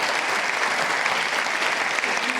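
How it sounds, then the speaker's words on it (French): A brief burst of audience applause at a museum forum on planetary and human health, dense and even clapping that fills the short stretch without pause. "Vous pouvez vous applaudir."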